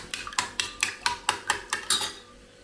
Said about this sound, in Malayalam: ഈ മുട്ട ഞാൻ നല്ലപോലെ ഒന്ന് അടിച്ചെടുക്കുകയാണ് സ്പൂണുകൊണ്ട്